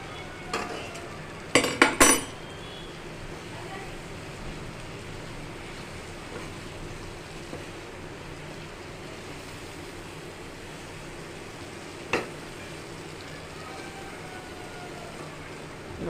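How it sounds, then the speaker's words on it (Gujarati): Boiled cluster beans (guvar) stirred into spiced masala in a pan for a Gujarati sabzi, a few sharp clanks of a spoon against the pan early on, then a soft steady sizzle with one more knock later. "હવે આપણે એમાં ગુવાર નાખી દઈએ, જે આપણે બાફીને પહેલેથી રાખ્યો હતો।"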